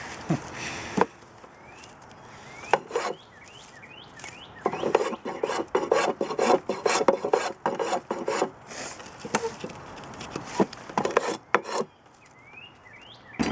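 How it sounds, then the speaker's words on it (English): A fine spokeshave is worked over wood to round a corner, giving bursts of rasping, scraping strokes separated by short pauses, close and crisp with no talking. "This is just a finer spoke shave. Next level of refinement."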